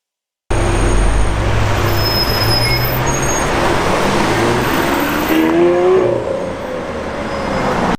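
A 6.5-liter V12 car engine from Need for Speed, rated at 740 horsepower, holds a steady, loud roar that drones on continuously, with a slight shift in pitch partway through and no talking.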